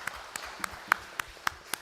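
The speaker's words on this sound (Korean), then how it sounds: "우리 하나님께 영광의 박수를 돌려드리겠습니다." A church congregation claps sparsely at a Sunday morning worship service, with a handful of distinct, evenly spaced claps that sound faint and fairly distant over a quiet room.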